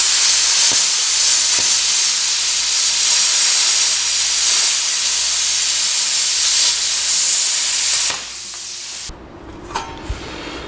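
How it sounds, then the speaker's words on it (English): A plasma cutter slices through thick metal, guided along a piece of angle iron, giving a loud, steady hissing roar that cuts off after about eight seconds, leaving quieter background noise and a few faint clicks. "Problem with plasma cutters is it always leaves a bit of a mess, so you have to grind it up after, but it's just the easiest way to cut thick metal."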